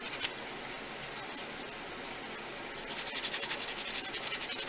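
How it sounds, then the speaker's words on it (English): Steady, close abrasive rubbing of a foam drywall sanding block on polymer clay fills the clip, a soft scratchy sanding sound that grows into a quicker back-and-forth rhythm near the end. "I've just got a foam sanding block, a drywall sanding block."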